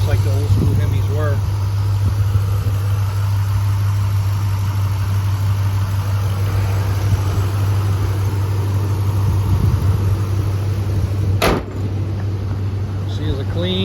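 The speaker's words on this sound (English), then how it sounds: "Like a top, nice quiet motor. We call this a Hemi" A 2005 Dodge Ram 1500 Daytona Edition pickup with its Hemi V8 idles smoothly and quietly in a steady, even drone from start to finish. Someone talks nearby over it.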